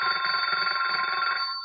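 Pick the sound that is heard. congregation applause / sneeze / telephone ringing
telephone ringing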